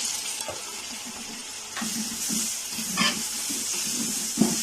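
Chopped tomatoes and green chilies sizzling in fried ginger-garlic paste for a keema aloo, a soft steady hiss with occasional stirring clatters, fairly quiet and close, no voices.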